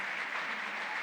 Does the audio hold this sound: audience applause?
yes